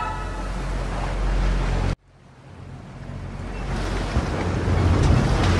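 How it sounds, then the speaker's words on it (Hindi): Stormy sea waves roar as a dense, loud rush around a ship, cut off abruptly after about two seconds and then swelling back up gradually with wind, like a dramatic film sound effect. "समुद्र की लहरें प्रचंड रूप से उन पर हावी होने लगा।"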